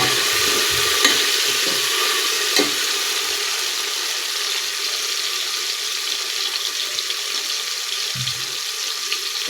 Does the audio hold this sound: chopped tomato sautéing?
yes